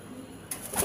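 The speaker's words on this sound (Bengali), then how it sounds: "এটা কালো একটি কবুতর" A black racing pigeon gives a brief, close, low cooing call, with a rougher burst of sound in the second half of the short moment.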